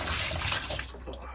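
Water drains out of a Haier washing machine with a faulty drain pump, a steady close splashing gush pouring out, fairly quiet and without talk.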